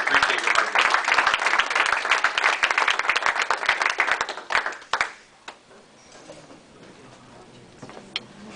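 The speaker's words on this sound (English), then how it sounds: "if you give yourself a round of applause" A room full of people applauds the outgoing officers at an installation ceremony: dense, loud clapping for about four seconds, then a few scattered claps, and quiet.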